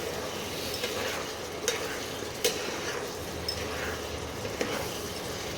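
Egg curry stirred in a pan over heat, with a steady soft sizzle and a few light scrapes and taps of the spoon against the metal, fairly quiet and close, no voices.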